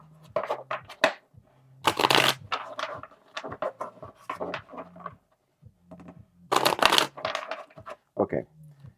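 Bursts of rapid papery riffling from shuffled tarot cards, several separate shuffles, close by, with a person talking between and over them.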